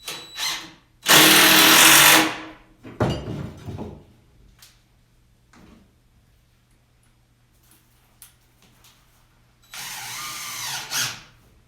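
A power drill drives 2 1/4 inch GKN screws through shelving into upright supports. A loud, steady run of about a second is followed by shorter, choppier whirs and faint clicks, then a final buzzing burst near the end.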